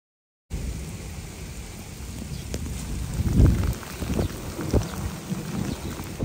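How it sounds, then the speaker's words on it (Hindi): Heavy rain falls in a Pashtun village as a steady wash of hiss with a few louder thuddy gusts midway, fairly near and without any talk. "बारिश अभी भी स्टार्ट है हो रही है"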